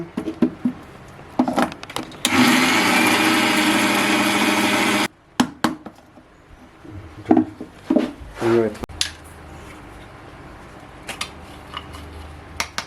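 A mixer grinder blending tomato chutney whirs loudly for about three seconds in a short burst, surrounded by conversation between people in a home kitchen.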